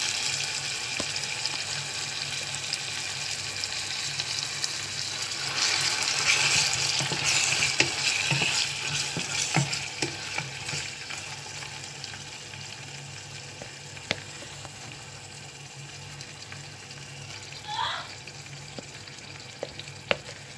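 Steady sizzling of food frying in a saucepan for a yam stew, with occasional scraping and clinks of stirring over a continuous hiss.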